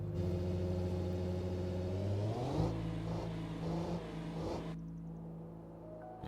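A car engine revs hard and climbs in pitch on a drag strip in the BeamNG driving game, a steady loud mid-range drone that surges, wavers, then drops off sharply near the end.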